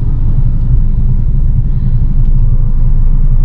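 A 2014 Honda Mobilio S with manual transmission, heard from inside while driving: a loud, steady low engine and road rumble that holds evenly throughout.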